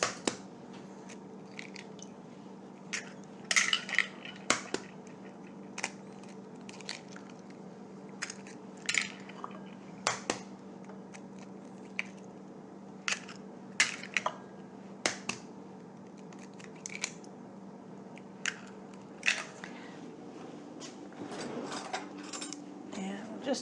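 Four eggs cracked one after another into a bowl of oil for carrot cake, heard as sharp, close shell taps and clicks scattered over a low, steady room hum.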